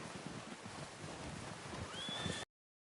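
A horse in a video game whinnies with a rising, squealing call over a steady bed of outdoor ambience and low rumbling, ending abruptly.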